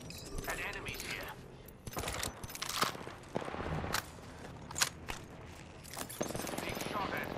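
Gunfire cracks in a video game shootout, with repeated sharp bursts and scattered shots over busy combat clatter, while a voice talks throughout.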